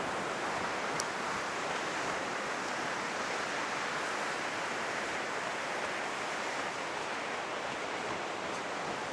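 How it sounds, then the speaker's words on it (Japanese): Ocean surf pounds Kujukuri Beach in Japan after a typhoon, a steady, loud roar of breaking and washing waves that continues without pause, close by and with no talk. "波って危ないね。"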